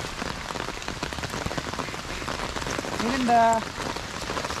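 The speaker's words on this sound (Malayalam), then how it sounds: "നല്ലൊരു മഴ പിന്നെയും വരുന്നുണ്ട് കേട്ടോ, അടിപൊളി മഴ പിന്നെയും വരുന്നുണ്ട്" Heavy rain pours steadily during trap fishing in hill floodwater, a dense hiss under a brief spoken exclamation near the end.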